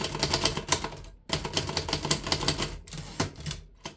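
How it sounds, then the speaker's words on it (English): A 1937 Remington Noiseless Model 1 typewriter is typed on in quick bursts of muted, rapid keystrokes, close and clear, with a couple of brief pauses between runs. "Notice that this can keep up with most speed of typing."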